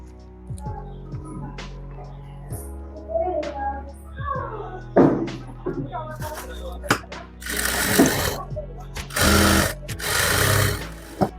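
A sewing machine stitches a seam on a salwar, running in short loud bursts near the end after some quiet handling noises. A voice is faintly heard earlier.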